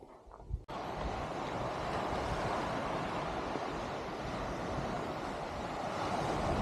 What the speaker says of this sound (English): Sandy, sandy beach.